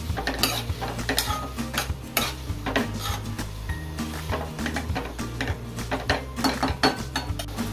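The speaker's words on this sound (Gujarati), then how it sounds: "હવે આપણે ટામેટા નાખીએ, કરી લઈએ આપણે।" Chopped tomatoes go into a hot pan for a Gujarati sev tameta curry and are stirred, with repeated close spoon scrapes and metallic clinks over a low sizzle.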